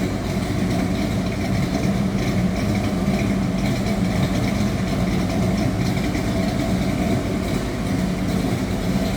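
Restored 1955 Chevrolet Bel Air two-door post sedan idling low, heard from behind the car: a steady, dense exhaust rumble that holds constant and fairly loud throughout, with no talk.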